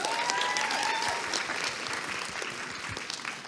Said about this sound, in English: I want you to all give a round of applause for yourselves for being here this morning